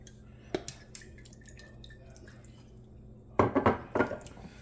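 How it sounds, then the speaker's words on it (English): Fish sauce poured over a pork marinade of sugar and soy sauce, heard as a few faint drips early on, then a louder cluster of splashy liquid hits and light clinks near the end, with no talking. "Give her a hit of the fish sauce."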